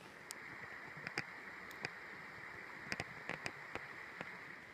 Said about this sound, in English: the only thing I hear is the water running off of this little slough